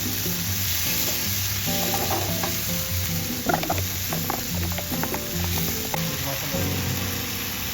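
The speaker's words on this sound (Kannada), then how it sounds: "ಸೊ ಸ್ವಲ್ಪ ಹೊತ್ತು ನೀವು ಮಿಕ್ಸ್ ಮಾಡ್ತಾ ಬೇಯಿಸಬೇಕು. ಒಳ್ಳೆ ಫ್ರೈ ಮಾಡಬೇಕು" Tomatoes for egg bhurji are stirred and fried in a pan on medium flame, giving a steady close sizzle broken by frequent scraping stirs of the spatula.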